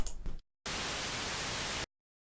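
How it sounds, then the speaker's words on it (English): Broadband white noise from the Serum synthesizer's noise oscillator plays as a single non-looping one-shot, a loud steady hiss lasting about a second that starts abruptly and cuts off cleanly into silence, after a brief softer burst. "you can use this if you just want a one shot of noise and you don't want it to continue throughout your sound"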